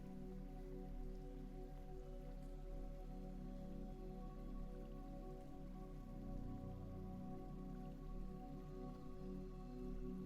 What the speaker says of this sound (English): The rain falls.